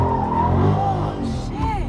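A Dodge Charger 392 Scat Pack slides with its engine droning and tires squealing and skidding close by, a continuous loud rumble with rising and falling squeal tones.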